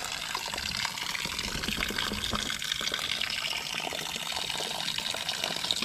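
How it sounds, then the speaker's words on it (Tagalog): Water trickling and splashing inside a deep well tank, a steady close gushing wash with no pauses, heard alone. "Parang may tumutulo na."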